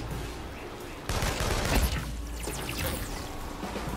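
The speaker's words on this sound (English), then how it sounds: "I heard gunfire." A burst of rapid gunfire breaks out suddenly in the video game Infamous Second Son, a dense crackling fusillade with a heavy low boom, continuing at moderate loudness amid ambient game noise.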